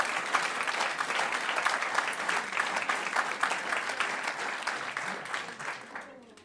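A live comedy audience applauds steadily during a sketch show, dense continuous clapping that holds fairly loud before tapering off at the end.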